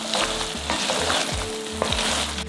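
Potatoes and green peas for a baked samosa filling cook in a pan with a loud, continuous close sizzle and periodic stirring scrapes, no talking.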